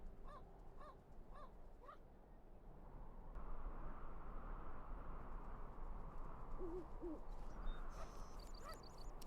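Bird calls in the Syberia 2 video game, a few short hooting cries repeating at intervals over a low, steady ambient background.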